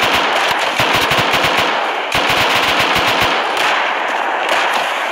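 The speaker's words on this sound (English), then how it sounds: "I shot their sniper up top." Rapid automatic gunfire rings out in the survival video game Rust, with dense repeated shots in fast bursts that fill nearly the whole stretch, loud and close, with no voices.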